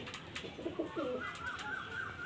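Madras Mundi pigeons, an old generation Dasu bloodline, giving soft rolling coos at close range, with a few sharper sounds and a thin high tone near the end over low background noise.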